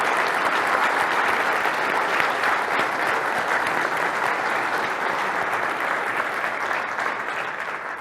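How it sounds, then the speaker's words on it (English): A large audience applauds volunteers at a flight simulation expo, steady sustained clapping filling the whole stretch without pause before easing slightly at the very end. "please have a huge round of applause for all the volunteers."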